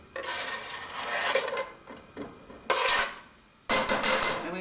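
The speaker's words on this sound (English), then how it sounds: "We will add the chopped onions to the pan." Chopped onions dropped into a hot pan of olive oil over medium-high heat give a loud, bright sizzle that flares in bursts, eases, then surges again, with no talking.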